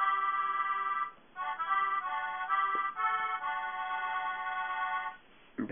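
A melodeon played through a melodeon app runs through a short sequence of sustained, reedy notes, each changing to the next with brief breaks, steady and close, with no voices.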